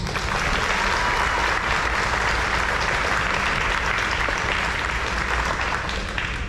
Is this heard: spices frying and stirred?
no